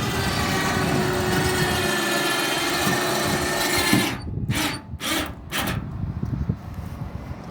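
An electric winch on a Craftsman ride-on mower lifts the attached snow blower, a steady loud mechanical whir for about four seconds that then stops and gives way to a few clunks and quieter rustling.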